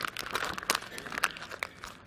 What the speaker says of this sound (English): crumple up an old poster.